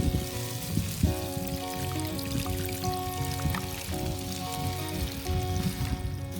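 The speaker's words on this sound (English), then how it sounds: "Now we can just water this in all around the base of the plant." Water pours steadily from a can onto garden soil around the base of a newly planted tomato, a continuous close splashing and trickling with no talk.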